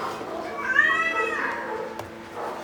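A cat meows once clearly and close, a rising and falling cry, with a faint voice nearby and a brief click afterward.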